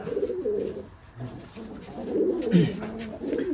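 Rajshahi Giribaz pigeons coo in low, throaty rolling phrases, close and steady throughout, with a faint voice now and then in the background.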